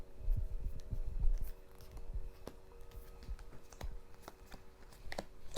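Tarot cards are set down one by one on a table during a card reading, producing a series of close, irregular soft taps and slides with brief gaps between them.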